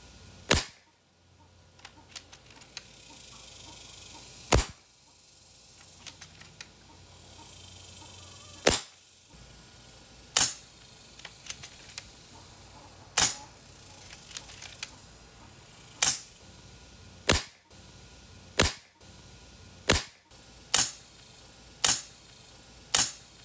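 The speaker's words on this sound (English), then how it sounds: "you hear you know, the action in the gun more than you hear the report" A suppressed Beeman underlever air rifle firing a series of sharp, dry shots with action clicks, about a dozen cracks that come closer together toward the end, with quiet handling noise in between.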